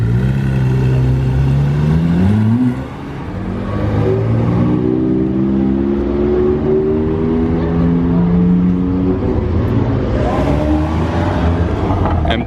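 Sports cars idle and rev in a queue at the entrance to the Spa circuit, with a loud engine note rising and holding steady over about twelve seconds of close, continuous motor sound.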